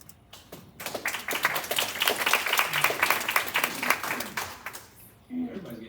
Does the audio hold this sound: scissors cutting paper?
no